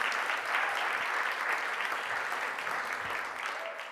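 Steady applause from a crowd, a dense patter of clapping that holds evenly and fades slightly toward the end, heard at moderate distance.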